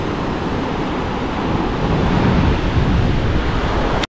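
Surf rolls onto My Khe beach in Da Nang, Vietnam, as a continuous loud roar mixed with wind buffeting the microphone. There is no talk, and it stops abruptly at the end.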